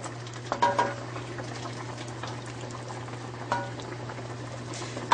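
Shrimp stirred in a pan for a black pepper shrimp alfredo, with a soft bubbling simmer under a steady hum and a few light scrapes of the utensil.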